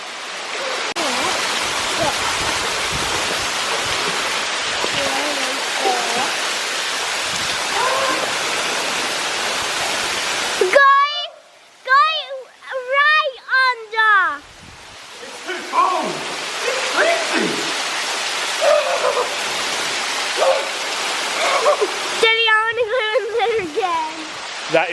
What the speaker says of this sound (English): You're standing under the waterfall.